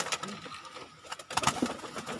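Young pigeons cooing softly in a loft, a few low murmuring coos near the end over faint background noise, with a person speaking quietly at times.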